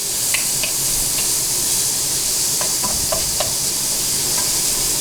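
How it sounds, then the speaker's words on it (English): Onions frying in a hot pan for Filipino chicken adobo, a loud steady sizzle and hiss with a few scraping stirs of a utensil close up. "So next up is your onions. Throw in your onions,"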